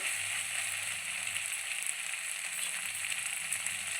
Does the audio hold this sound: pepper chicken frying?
yes